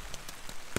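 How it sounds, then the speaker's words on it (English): Heavy rain drums on a tent on a hiking trail, a constant patter with a few louder individual drop impacts, close and alone. "It's been raining like really hard."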